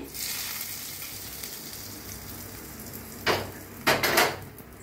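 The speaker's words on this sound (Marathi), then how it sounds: "आता ओतूया ही फोडणी" Hot tempering poured over a moong dal salad hits with sharp sizzling bursts, two loud crackling hisses near the end over a quiet background of faint kitchen noise.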